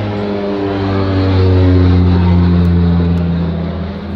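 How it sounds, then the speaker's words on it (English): A propeller airplane passes low overhead beside the Sacramento River, its steady droning engine swelling loud and close, peaking mid-pass and easing slightly as it moves on, with no talking. "Sorry for all the noise, that there's a plane flying right above me right now."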